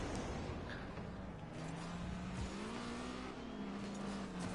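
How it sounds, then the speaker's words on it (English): A video game car engine revs loudly and continuously, its pitch rising and holding steady with a brief dip midway, close and dominant over a dense rumbling background. "Ooh, that engine."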